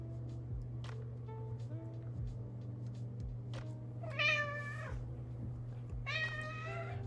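A house cat in an indoor apartment gives two drawn-out, sassy meows close by, spaced a couple of seconds apart, over a steady low background hum and scattered soft thumps.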